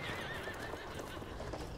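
Horse in the Battlefield 1 video game giving a neigh over galloping hooves amid chaotic battle noise, short and fairly close, with the whinny sitting above dense background rumble.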